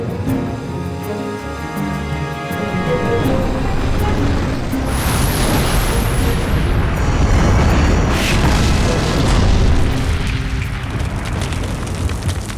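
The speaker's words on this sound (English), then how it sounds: "Ghost Troop fires repeatedly until the Iraqi tank company is all but destroyed." Heavy booming bursts of tank cannon fire and exploding Iraqi tanks, including T-72s, in a desert armored battle, dense and continuous with rumbling blasts layered over one another.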